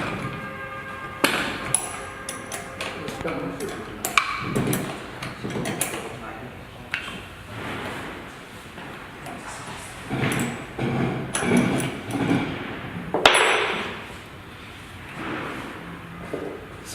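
Someone takes apart a deep well submersible pump to reach its impeller, making irregular metallic clanks, knocks and scraping close by while a person talks at times.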